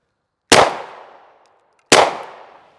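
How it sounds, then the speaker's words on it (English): A pistol is fired twice with a jerked, slapped trigger pull, two loud, sharp outdoor cracks about a second and a half apart, each ringing out and fading. "I'm just gonna whack the trigger without regards to pulling it straight back"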